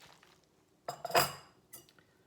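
Cutlery and dishes clink while sesame soba noodles are served, a few quiet scattered knocks followed by a brighter cluster of clinks and scrapes, then a final soft tap in a quiet room.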